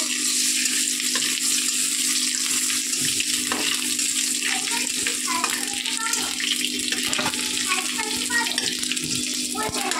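Cumin seeds crackle and fry in hot oil as a tempering for a home-cooked lunch, a steady dense sizzle with a low hum beneath and faint clinks, close and continuous throughout.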